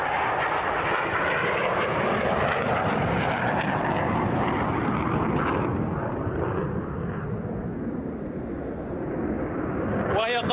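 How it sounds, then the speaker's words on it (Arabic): A JF-17 Thunder single-engine fighter jet roars loudly and steadily overhead, a broad continuous jet noise that slowly shifts in pitch as it passes, with a voice speaking over it. "وهي طائرة هجومية ودفاعية في نفس الوقت ذات محرك أحادي"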